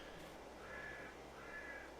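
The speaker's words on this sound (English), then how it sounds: "Caribbean bird sounds and stuff." Caribbean bird calls in the video game Farming Simulator 22: two faint, drawn-out caws sound in succession over a steady ambient hum, quiet and distant.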